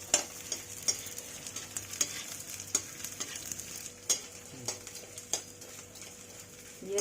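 Jaggery-sweetened dough pieces fry in hot oil for a winter sweet, a steady close sizzle punctuated by regular scraping and clinking taps of a spoon stirring against the pan, with no one speaking.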